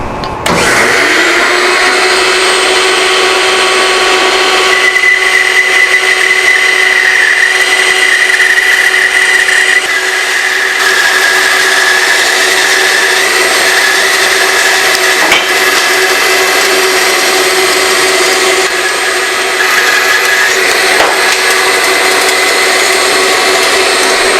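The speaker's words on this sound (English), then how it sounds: "Now we're going to bandsaw just outside the line with a freehand cut." Bandsaw making a freehand curved cut along a marked line on a tapered wooden leg, a loud steady whine with a sustained high tone running continuously from start to finish, no talking.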